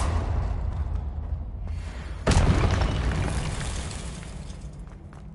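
Spell blast from the Confringo curse in the video game Hogwarts Legacy: a single loud explosive boom bursts in about midway, then a rumbling fiery tail slowly fades over steady game background noise.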